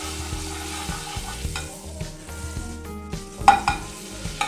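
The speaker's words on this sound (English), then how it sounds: "I take a kadrai, and now add the butter, 1/2 tablespoon butter" Half a tablespoon of butter melts and sizzles in a kadai, a soft crackle under repeated scraping and stirring strokes, with a sharper knock near the end; no talking.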